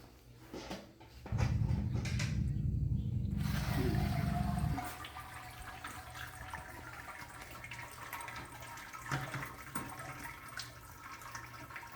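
Water pours through a bed of grains while home-brewing a milk stout, a loud steady gush lasting several seconds before dropping to a quieter trickle and drip.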